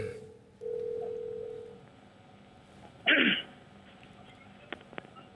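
A phone call being placed: a steady tone, then a short burst and a few faint clicks, all fairly quiet and close.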